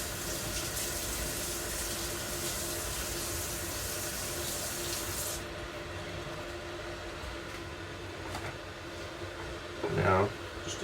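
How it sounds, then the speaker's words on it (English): Items rinsed under a running tap make a steady stream of water for about five seconds. A quieter stretch follows, then a brief clatter and splash near the end. "And then I just gotta rinse these off."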